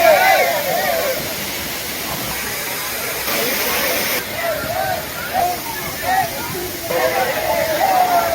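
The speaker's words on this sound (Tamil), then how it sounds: "கன்னியாகுமரி மாவட்டம் திருப்பரப்பு அருவியில் ஆர்ப்பரிக்கும் நீரில் டூரிஸ்டுகள் உற்சாக குளியல் போட்டு" Water crashes continuously at Thirparappu waterfall in Kanyakumari district, a broad, loud, hissing roar with splashing as tourists bathe, while a voice talks over it throughout.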